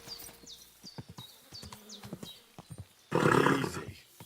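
Horse in Kingdom Come: Deliverance II, snorting and whinnying loudly in a burst near the end, following a stretch of game dialogue and small sounds.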